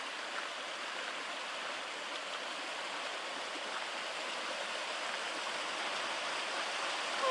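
A small waterfall on a mountain trail stream near Carson Pass rushes in a steady, dense hiss that holds constant throughout, with no voices.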